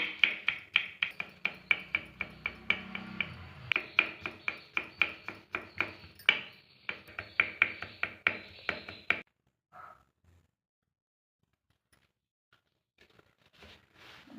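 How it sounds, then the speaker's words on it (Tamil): About ten garlic cloves finely chopped with a knife on a board, a fast run of sharp, even taps for about nine seconds, then a pause and a few faint knocks, close and without talk. "பூண்டு ஒரு பத்து பல்லு போல் அதுவும் நல்லா நைஸாக கட் பண்ணிக்கலாம்"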